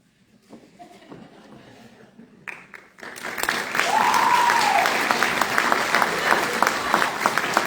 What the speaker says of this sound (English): Please give our honorary member, Mr. Siobhan Singleton, another round of applause.